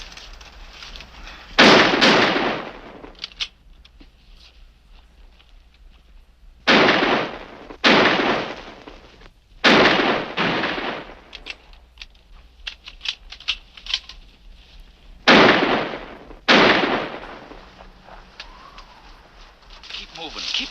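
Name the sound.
gunshots in a shootout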